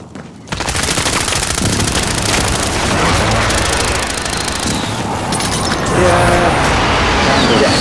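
Sustained automatic gunfire and explosions in a Call of Duty Warzone match on Rebirth Island, played as a squad of four, a loud dense barrage that swells louder toward the end.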